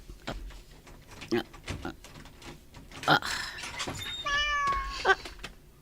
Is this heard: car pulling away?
no